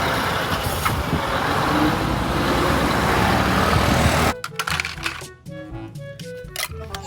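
A container truck on a road rolls by with a loud, steady engine and roadway rumble that cuts off abruptly, giving way to quieter, scattered traffic sounds.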